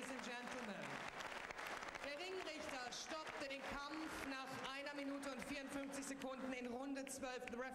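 Arena crowd applauding two boxers after a professional bout ends in a technical knockout, a steady dense wash of clapping that runs the whole stretch, mixed with a commentator's voice talking over it.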